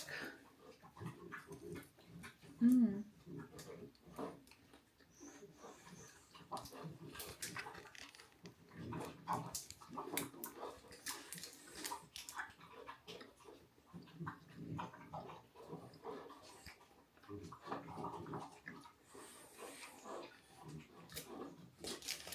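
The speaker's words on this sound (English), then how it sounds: "you can hear the dogs eating" Dogs eat nearby with repeated crunching, lapping and clinking against a bowl, a steady busy patter of chewing sounds.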